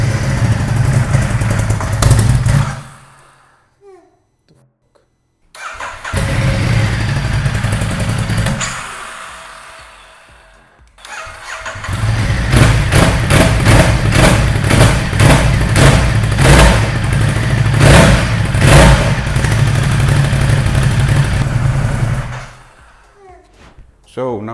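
A wrecked Ducati XDiavel motorcycle engine cranks and sputters, stops, then turns over again and runs with a rough, pulsing rumble before shutting off.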